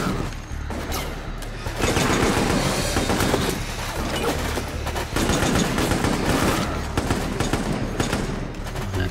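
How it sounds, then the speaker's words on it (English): Dense, loud gunfire against zombies in an Xbox 360 shooter, a continuous rattle of rapid shots with booms and crashes mixed in and no pause. "Pistols to zombies, Ryan."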